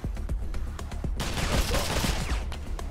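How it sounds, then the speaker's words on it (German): Rapid bursts of gunfire from the video game Wasteland 2, a dense fusillade of shots that starts about midway and carries on loudly to the end, with isolated sharp shots before it. "Ich schieße ruhig mal auf den da."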